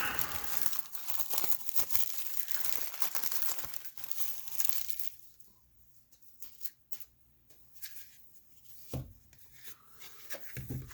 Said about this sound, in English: Tear this open.